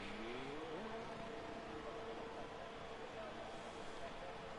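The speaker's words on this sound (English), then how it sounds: "as we are about to get cars out on track to do their first lap." Formula 1 race cars pull out of the pits in the F1 2021 video game at the Bahrain circuit, a steady engine drone with rising whine under ongoing commentary.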